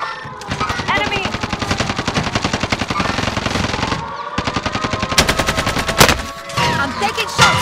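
Rapid automatic gunfire from the video game Warzone rattles in long, dense bursts with brief pauses and a few heavier single shots near the end, loud and close, with faint game chatter underneath.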